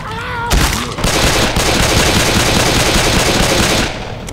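Sustained automatic AK-47 fire in the zombie shooter Left 4 Dead, a loud, close, rapid burst of dense shots that rattles on for several seconds with no talking over it.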